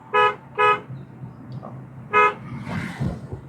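A car horn honks three times, two quick toots then a third after a pause, over road and engine noise.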